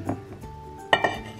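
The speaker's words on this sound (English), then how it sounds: "Now I'm going to use my always pan" An Always Pan handled on a kitchen stove, with a couple of close metallic clinks and knocks, in a home kitchen where pasta is boiling nearby.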